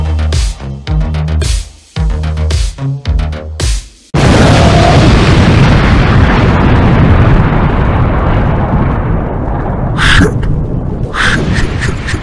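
Explosions roar through a pirate ship attack on the Galactic Starcruiser: several choppy blasts at first, then a loud, sustained rumbling barrage that keeps going for the remaining seconds.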